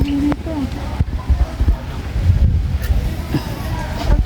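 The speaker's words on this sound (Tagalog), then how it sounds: "Sobra pong hangin dito." Strong wind buffets the microphone in low rumbling gusts, with water and boat noise beneath and brief voices now and then.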